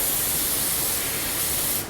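A cheap Harbor Freight paint spray gun blasts a continuous loud airy hiss for nearly two seconds, then cuts off abruptly as the trigger is released, with no talking over it.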